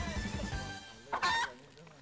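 Ducks quack on a farm with a brief burst of nasal, honking calls, fairly faint, following some low voices.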